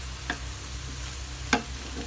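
Spinach, chicken breast and tofu stirred in a frying pan, a steady close sizzle with two brief scraping clicks of the utensil against the pan.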